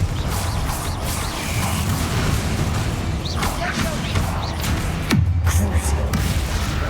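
A Confringo fire spell goes off in Hogwarts Legacy amid dense, steady battle noise with whooshes and mechanical clatter, ending in a sudden booming blast near the end that leaves a low rumble.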